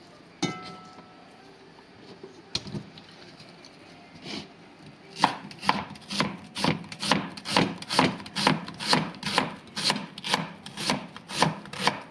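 A knife slices onions into rings on a board. Sparse cuts give way to a fast, even run of crisp chopping strokes, close and clear, with no voices.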